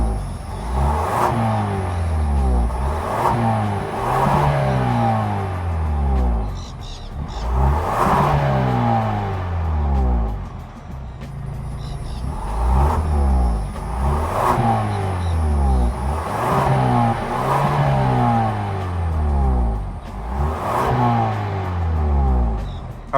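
Genesis GV70 exhaust in sport mode, revved repeatedly while stationary: a loud series of rising and falling engine blips, about eight in a row, each swelling and dropping back, close and clear with no talk.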